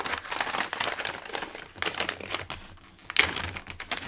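Paper or card being stood up and folded over for a desktop organizer craft, giving close, repeated crinkling and creasing rustles in uneven bursts, with a sharper crackle near the end.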